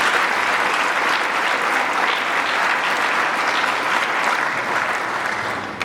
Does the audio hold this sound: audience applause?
yes